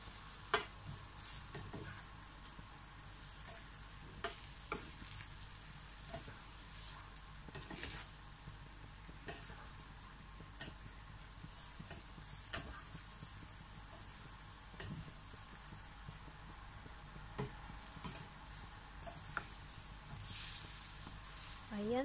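Green string beans and squash sautéed with shrimp paste in a pan, stirred with scattered scraping clinks over a steady low sizzle, near and fairly quiet, with no one talking.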